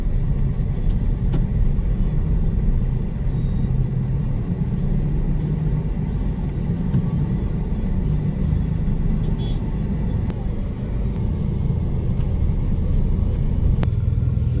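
Steady road traffic on a coastal road junction in Davao City, a continuous low rumble of passing cars and vehicles close by, with no clear pauses over the whole stretch.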